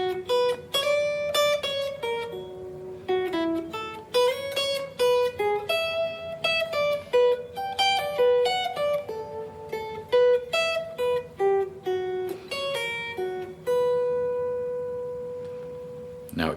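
Electric guitar improvising arpeggios built only from chord tones; a steady run of clear single picked notes that shift pitch over about sixteen seconds, played alone and ending on a long held note.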